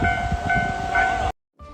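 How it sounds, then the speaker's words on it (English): Train speeding through a snow-covered track, a loud, steady roar with sustained horn tones that cuts off abruptly, followed by a fainter tonal tail. "Train blasts through snow-covered track, sending waves of snow flying into the air"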